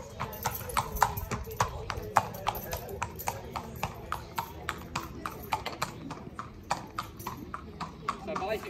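A grey filly walks on a hard surface, her hooves clip-clopping in a steady, even rhythm, close and clear, while someone talks over the sound.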